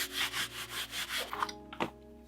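Felt lining is rubbed smooth inside a wooden drawer by hand, producing about six rhythmic close rubbing strokes, then a pause and a couple of lighter brushes.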